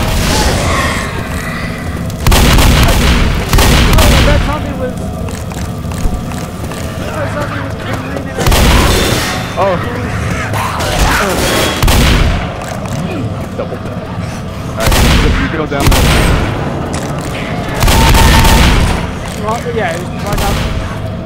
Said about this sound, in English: I threw a pipe bomb.